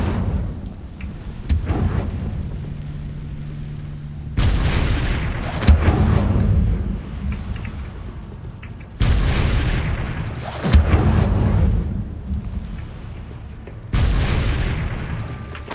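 The Incendio fire spell cast in the video game Hogwarts Legacy lets out loud, rumbling bursts of flame. Four heavy whooshing booms land about every four seconds and each trails off before the next.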